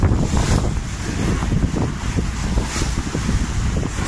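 Strong wind roars steadily across the microphone aboard a sailing smack at sea off the English south coast, with water and wave wash beneath, loud and continuous with no talk.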